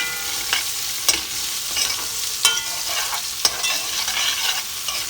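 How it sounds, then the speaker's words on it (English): Mushrooms lightly salted, sizzling as they fry in a pot, with a steady crackle broken by several sharp scrapes and clacks of a utensil stirring them at close range. "I go ahead and add in the mushrooms"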